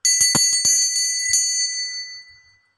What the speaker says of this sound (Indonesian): di sini kita akan mulai dengan hasil ditandai lonceng berbunyi.